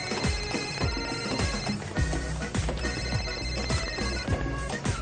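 A telephone rings loudly and repeatedly in a steady electronic pattern of bell-like bursts, close and uninterrupted, with no voices over it.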